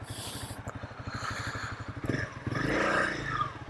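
A small motorcycle pulls away from a cycle shop in Alaska, its single-cylinder engine thumping in a fast steady pulse that builds into a louder revving rush as it speeds off.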